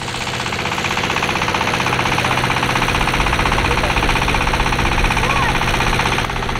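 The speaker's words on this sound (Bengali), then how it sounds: "আমি এখন নায়ের মেশিনে বইছি আর নাও চালাচ্ছি অনেক জোরে জোরে" A motorboat engine on a village river in Bangladesh runs fast, giving a loud, close, steady throbbing drone with a constant rattling pulse that holds without a break throughout.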